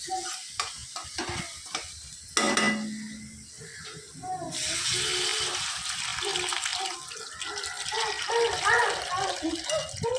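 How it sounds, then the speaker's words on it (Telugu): Soaked tamarind water is poured into a pan of fried fish pieces, making a sudden splash and then a rising, steady hiss and bubbling, with a voice talking over it at the start. "ఇప్పుడు నానబెట్టుకున్న చింతపండు పులుసు వేస్తున్నా"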